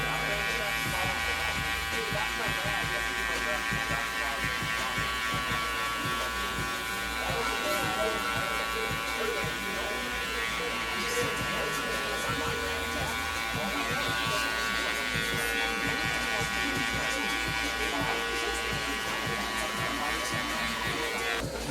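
Electric hair clippers buzz steadily throughout a fade haircut with the lever fully open, a constant close mechanical hum with faint cutting texture while people talk casually in the background.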